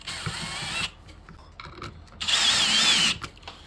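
A cordless drill set to extra low speed whines in two bursts as it drives screws into the replacement fuel tank of a chainsaw, with a quiet gap of handling noise between them.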